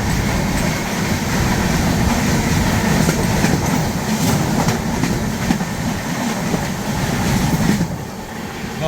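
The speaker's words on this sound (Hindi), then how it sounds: "ये आ गई है हावड़ा मुंबई मेल" The Howrah Mumbai Mail train rushes past at a crossing in a loud, continuous rumble with rhythmic wheel clatter, heard close from a passing train.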